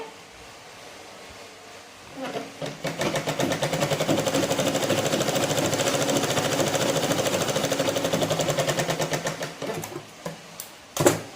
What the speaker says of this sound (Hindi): अब ये सीधी सिलाई मैं कर रही हूँ यहाँ पे